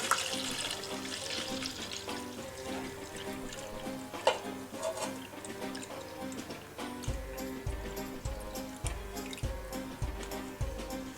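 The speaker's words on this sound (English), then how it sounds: "it's just a matter of pouring our liquid straight in." Liquid is poured into a brain-shaped mould set in a bowl for a Halloween recipe, a close trickling and splashing stream with scattered drips, steady throughout with a deeper gurgling pulse toward the end.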